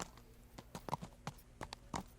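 Horse hooves clip-clopping in Kingdom Come: Deliverance, a medieval-setting game. About half a dozen faint, unevenly spaced hoof strikes land on the ground at a slow walking pace.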